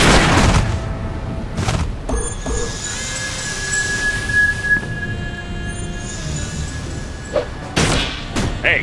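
Gunfire bursts in a Sam & Max animated episode, with sharp loud shots at the start and again near the end around a stretch of whining, tonal noise and rumbling in between.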